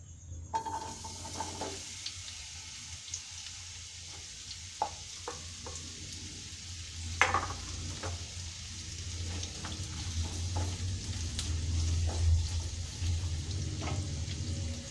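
Onions frying in hot oil in a pan for egg curry: a steady, moderately quiet sizzle over a low hum, punctuated by occasional stirring clicks and crackles.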